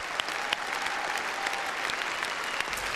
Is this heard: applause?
yes